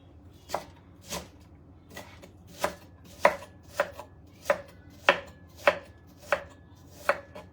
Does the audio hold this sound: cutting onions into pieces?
yes